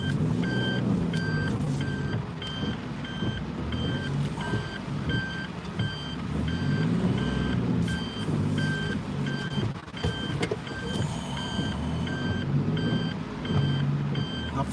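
A truck backs into a spot by a house, its reversing alarm beeping steadily throughout over a loud, low engine rumble.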